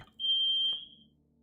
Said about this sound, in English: Oh, I think the smoke alarm just went off.